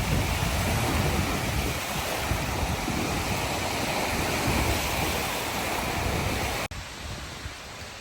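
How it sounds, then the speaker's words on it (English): Continuous roar of Great Lakes surf washing onto a beach at Sterling State Park, Michigan, steady and full-bodied, with no voices; the sound cuts abruptly near the end and resumes slightly quieter. "listen to the waves come rolling onto the beach"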